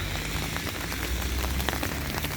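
Steady heavy rain pattering on a hard surface, dense and continuous, with occasional louder drops and no voices.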